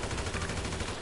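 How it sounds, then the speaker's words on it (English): Rapid gunfire from an AP pistol in the video game GTA 5, a fast burst of close, loud shots with no talk. "he keeps on using that one shot. He's shooting a pistol."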